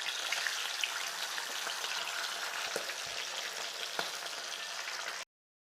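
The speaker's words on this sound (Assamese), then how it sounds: "এতিয়া মাছখিনি এটা এটা দি গৈছোঁ।" Fish pieces fry in mustard oil, giving a steady, close crackling sizzle with a few sharp taps scattered through it. The sound stops abruptly at the end.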